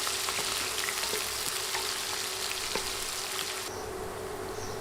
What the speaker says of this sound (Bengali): নেড়ে 2-3 মিনিট পেঁয়াজ ভেজে নিব।